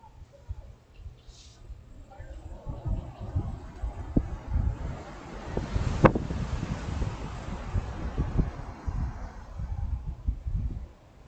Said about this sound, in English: A windy, blustery October day.